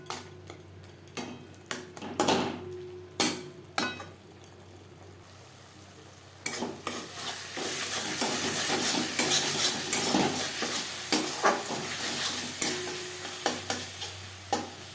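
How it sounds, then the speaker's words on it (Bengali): Spices with salt and turmeric stirred in a pan for a Bengali banana-flower mochar ghonto, with repeated sharp scrapes and clinks of a utensil against metal, a steady sizzle rising partway through, close and alone without talk. "লবণ হলুদ মশলার সাথে বেশ ভালো করে মিক্সড করে দেবো"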